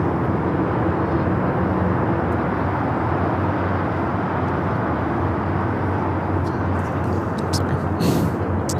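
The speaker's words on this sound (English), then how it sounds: "8173 taking off to Shanghai on the 747-400 converted freighter, 32 years old." A 32-year-old Boeing 747-400 converted freighter takes off from LAX bound for Shanghai, a steady, broad jet roar held at some distance under continuous talking.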